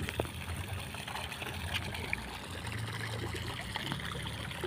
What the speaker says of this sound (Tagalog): May fountain dito.